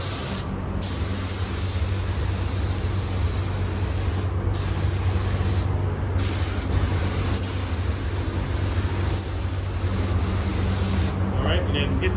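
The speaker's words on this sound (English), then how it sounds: "Now, spray a coat around here, and then spray one more where you got into it." A spray gun hisses in long continuous bursts with brief pauses between them, loud and close, painting a truck while a person talks in the background.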